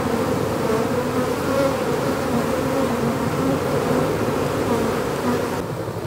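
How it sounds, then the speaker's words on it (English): Dense, continuous buzzing of a large swarm of honey bees, close and steady throughout, with no voices. "There's quite a lot of bees collecting underneath the box"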